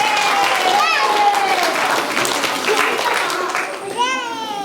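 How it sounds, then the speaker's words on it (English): Audience applause fills a hall at a Durga Puja cultural program, a dense wash of clapping with cheering and children's voices mixed in, continuous and close throughout. "please give them a big round of applause"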